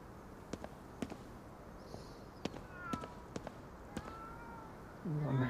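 A cat meows softly in the video game Ghostwire Tokyo, with faint mews heard between scattered footstep-like taps and a louder, low voice near the end.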